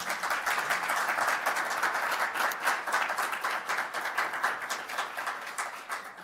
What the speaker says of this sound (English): And yeah, you can applaud for that.